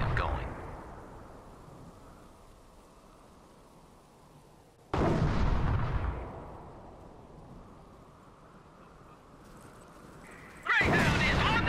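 Gunfire and artillery from the Company of Heroes expert campaign at Cherbourg: two loud explosive blasts boom out over a steady rumbling battlefield din, with voices talking beneath the background noise.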